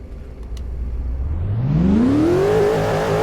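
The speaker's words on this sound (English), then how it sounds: "That's actually a good rev." Lotus car engine in the Greenville video game revving up hard, pitch climbing steadily from a low idle to a high strained whine and holding near the top, loud and close with no talk.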